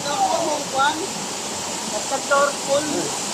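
Water plunging from the top of a tall waterfall makes a loud, continuous broadband roar, with voices faintly audible underneath.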